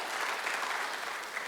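A church congregation applauds during a live worship service in Surabaya, a steady, even wash of many clapping hands that holds at the same level throughout, with no talk over it.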